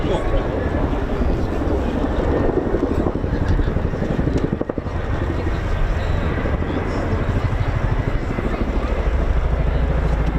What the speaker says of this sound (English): a demonstration of just how surprisingly agile the mighty, huge Chinook helicopter is